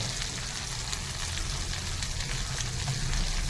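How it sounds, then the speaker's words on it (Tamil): Tomatoes and garlic sautéing in a pan give a steady, close sizzle that runs without pause. "இப்போ தேவையான அளவு தக்காளி, பூண்டையும் போட்டு நல்லா வதக்கி விடுங்க."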